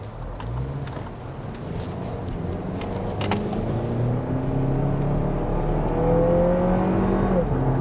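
A 2023 Lexus RX 350 Sport Luxury AWD engine hums steadily and builds in pitch as it revs up in sport mode, a smooth rising drone rather than a deep roar, heard from inside.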